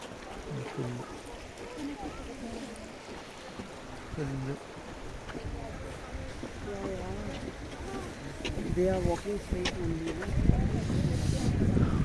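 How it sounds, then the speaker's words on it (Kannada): A shallow stream flowing over rocks near Madhuri Lake in Tawang gives a steady, fairly close broadband rush. Voices talk over it now and then, and the water grows louder toward the end. "ಇದೆಲ್ಲ ನೀರು ಹರಿತಾ ಇದೆ"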